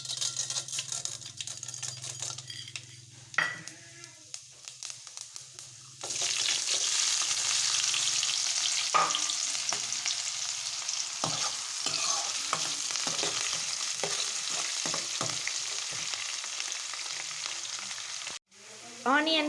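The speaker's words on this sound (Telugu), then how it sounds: "ఇప్పుడు తాలింపు గింజలు, ఆనియన్స్ వేసుకొని కలుపుకోవాలి." Onions and tempering seeds sizzle and fry in hot oil for a sorakaya sweet curry, a steady loud crackle with repeated stirring scrapes and clicks after a quieter start, no talking.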